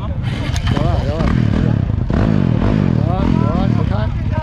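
An off-road motorcycle is kick-started repeatedly, its engine sputtering and catching in short bursts with clattering from the bike, close and loud, while people talk over it.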